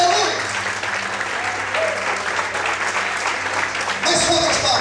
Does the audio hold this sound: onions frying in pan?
no